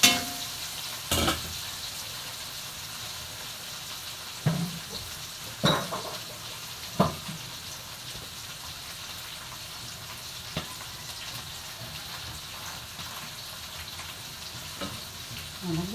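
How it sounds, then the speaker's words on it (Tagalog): Partly fried chicken and fried potatoes are stirred together in a pan for calderetang manok: a steady close sizzle runs throughout, broken by occasional scraping knocks of the utensil, and no one speaks. "Haloin na natin itong prinito kong manok ng bahagya, saka yung prinito kong patatas, saka tabang."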